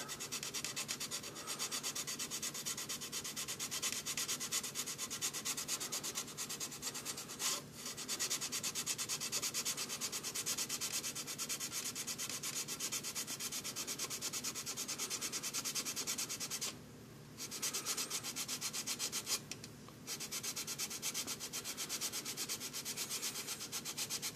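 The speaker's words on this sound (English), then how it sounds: "I want to keep moving my sanding disc kind of like that because of the way the body is." A small sanding disc rubs continuously over a plastic scale model car body to shave off the drip rails, a close, steady rasping with two brief pauses.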